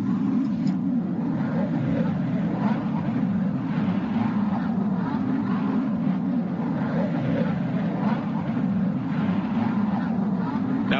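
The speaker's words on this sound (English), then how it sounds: "the sound that they picked up. This is a plasma sound." A sonification of plasma waves from the planet Kepler-186f: a continuous low droning roar with shifting, whooshing overtones, steady and unbroken like a distant jet passing overhead, with no voices.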